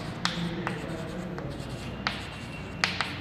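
A marker or chalk taps and scratches across a board in a few short, separate strokes, faint and fairly close, with a quiet room hum underneath.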